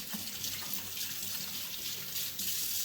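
Tap water running into a sink while hands are rinsed, a steady close hiss of flowing water with slight splashing throughout.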